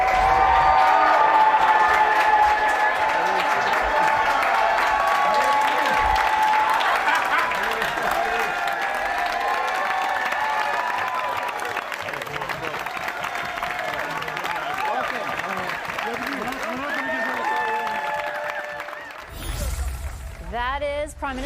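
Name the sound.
raucous applause as Liberal caucus welcomes new MP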